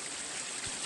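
Sewage water pours like a small waterfall in Sihanoukville, Cambodia, a steady, close, rushing hiss with no other sounds.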